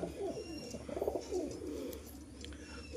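Domestic Giribaz-line pigeons coo softly and close by, a few low rolling calls with faint chirps around them, no voices.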